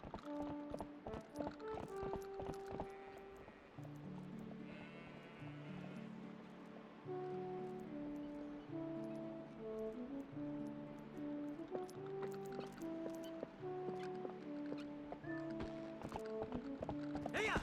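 Horse hooves clip-clopping in The Legend of Zelda: Twilight Princess, a steady rhythmic trot on a ranch, heard under a bright melodic game music score that plays throughout.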